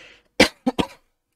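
A man coughs in a quick burst of three harsh, close coughs after a moment of trailing talk, then falls silent.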